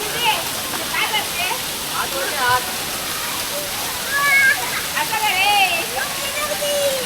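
Devgad waterfall in the Konkan monsoon roars steadily and close by, a dense broadband rush of water. People talk, call and shout over it throughout, and their voices rise in places.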